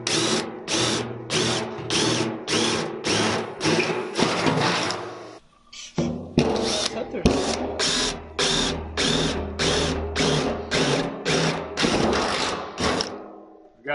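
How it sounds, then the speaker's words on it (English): A jigsaw cuts into corners while building a homemade cane syrup evaporator, sounding as a close, loud string of rapid buzzing bursts with a brief pause midway before the cutting resumes. "when you're cutting with a jigsaw"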